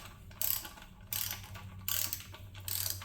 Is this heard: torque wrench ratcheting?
yes